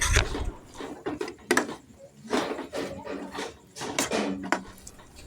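Jaggery and coconut mixture for narkel naru being stirred in a pan off the flame, irregular scraping and clanking of a utensil against the pan in bursts, close and fairly loud, no talk.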